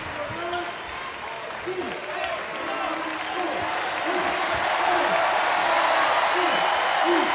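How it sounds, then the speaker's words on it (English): Gonzaga basketball crowd in an arena in Portland applauding throughout, a steady broad wash of clapping and crowd noise with a commentator talking over it and sneakers squeaking on the court. "Gonzaga crowd here in Portland appreciating the effort and the ability for them to get the ball over"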